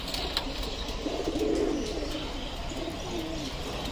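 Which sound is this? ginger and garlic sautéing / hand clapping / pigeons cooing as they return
pigeons cooing as they return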